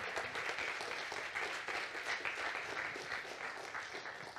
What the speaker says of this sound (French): des premiers applaudissements